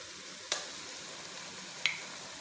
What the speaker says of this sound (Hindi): अब हम लहसुन अदरक को पकाएंगे।